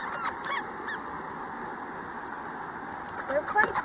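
Parrots squawking and honking harshly as they fight, including Australian ringnecks and yellow-collared parrots, in scattered close bursts over a low background hum.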